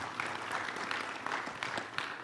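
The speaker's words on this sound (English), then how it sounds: "A round of applause for all our panelists." A conference audience at an Eastern Africa forum on artificial intelligence applauds its panelists with steady, dense clapping that holds at an even level throughout.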